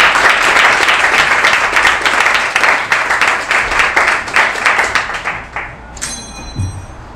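Audience at a metaverse panel event applauding a speaker walking onstage, loud, dense clapping that slowly thins and fades toward the end.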